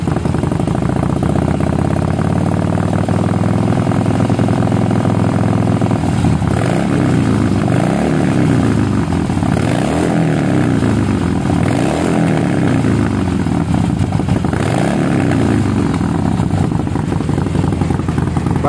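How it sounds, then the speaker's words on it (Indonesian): A Harley-Davidson 1200 motorcycle fitted with a custom muffler idles loudly up close, then is revved in several deep, rising and falling bursts before settling back to a steady rumble. "Baru kali ini gua geber Harley yang 1200 ya bro."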